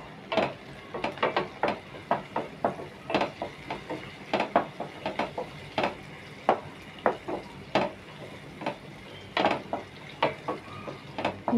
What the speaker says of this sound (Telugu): ఉల్లిపాయలు కొంచెం ఫ్రై అయినాయండి.